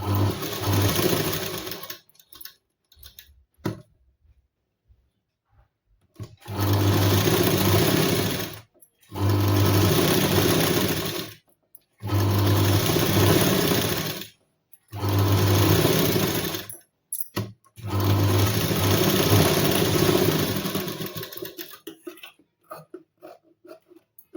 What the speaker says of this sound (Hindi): फिर ऐसे उल्टा करके ये तीनों तरफ हम सिलाई डाल लेंगे।